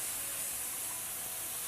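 Canned natural chopped tomatoes with no added salt hit a hot pan of sauce, giving a soft, steady hiss and sizzle that runs evenly throughout without any talk.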